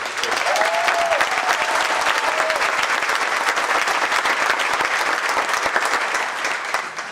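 Loud, sustained applause for the Secretary of Tourism at a state tourism conference, a thick continuous roar of clapping from a large crowd with a brief whoop near the start.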